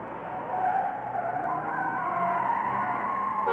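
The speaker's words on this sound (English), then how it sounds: "I hear a car coming" A continuous tire screech and engine whine of a Lego toy car approaching and skidding nearby, steady and loud for a few seconds.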